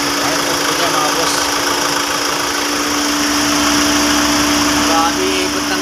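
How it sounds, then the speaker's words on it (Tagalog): A 2023 Ford Everest turbo diesel engine runs close by with a steady, loud mechanical drone and hum that holds evenly throughout. "Grabe ikot ng makina, lakas."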